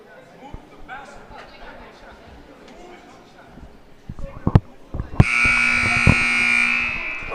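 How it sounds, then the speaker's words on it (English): A loud, sustained electronic buzzer blares at a high school boys' varsity basketball game between Oratory Prep and Hillside, cutting over gym crowd noise, squeaks and thumps, and holding steady for several seconds. "There's the buzzer."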